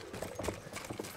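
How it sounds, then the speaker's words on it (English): Horse hooves gallop in the Battlefield 1 video game, a quick, faint patter of beats under dense battlefield noise. "I hear a horse coming to Bravo, I think."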